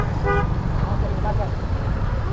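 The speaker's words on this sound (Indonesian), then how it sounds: "Iya, macet banget di sini." A car horn toots briefly amid the dense, rumbling traffic noise of a jammed queue for a fuel station in Pematang Siantar, with idling engines throughout and people talking nearby.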